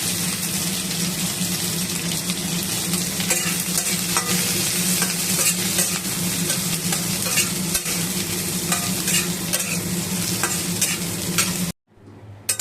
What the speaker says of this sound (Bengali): এর মধ্যে আমি মৌরি ফোড়ন দিলাম আর তার সঙ্গে এই পেঁয়াজ আর ক্যাপসিকামটা হালকা করে ভেজে নেব